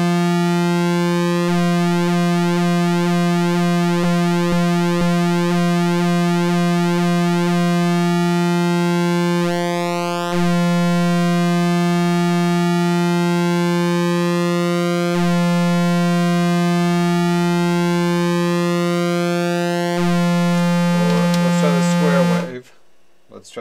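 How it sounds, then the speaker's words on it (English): An ARP 2600 synthesizer plays a steady, loud drone with a sawtooth LFO fed through the lag processor sweeping the pulse width, giving a slow cyclic shimmer in the harmonics for about twenty seconds before cutting off abruptly. "take its sawtooth wave, put it into the lag processor, and put that into pulse width modulation."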